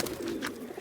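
Rajshahi Giribaz pigeons, including a red-legged hen, coo in a low, steady rolling murmur close by, with faint background noise and no voices.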